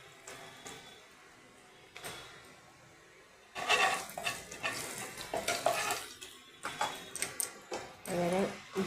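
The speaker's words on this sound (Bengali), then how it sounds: "এবার আমি একটু হিং দিয়ে দিচ্ছি।" Asafoetida hits hot oil with a burst of crackling and spitting that starts partway in and comes in uneven pulses. Before it is a quieter stretch with a couple of faint knocks, and a voice is heard in the background.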